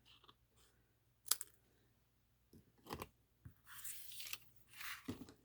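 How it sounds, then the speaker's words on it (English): Snips cutting material for a handmade maze card: a few sparse, faint snipping clicks and crunchy cuts scattered across quiet moments, with a longer rustling cut near the end. "There's my snips."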